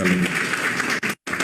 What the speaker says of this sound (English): A round of applause for Mr. Kwame Alumni.